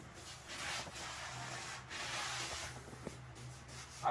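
Dry wool roller pressed over wallpaper inside wall molding in a home hallway, giving soft, repeated rubbing and brushing strokes, close but quiet, with a small knock near the end.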